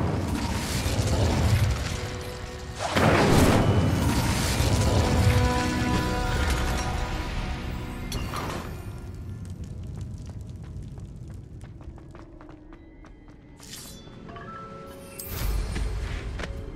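An Incendio fire spell cast in Hogwarts Legacy, loud whooshing bursts of flame with booming magical impacts and crackling, fading into a lingering rumble before a final flare.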